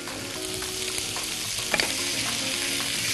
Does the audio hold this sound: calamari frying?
yes